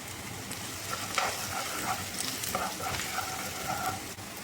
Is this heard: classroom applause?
no